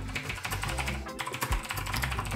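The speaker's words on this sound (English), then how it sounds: "this is the Kikun K2, and it's a mechanical keyboard with blue switches" Rapid clicky keystrokes rattle from a Keychron K2 mechanical keyboard with blue switches, typed in a steady close-up burst with only a brief pause.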